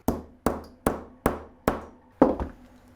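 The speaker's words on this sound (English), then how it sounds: "there's this other half of the tool that I'll use to bonk it and squish it" An eyelet setting tool is struck against a small plastic anvil, giving six sharp hammer blows at a steady, roughly half-second rhythm, each close and loud with a short ringing tail, the last two strikes coming in quick succession.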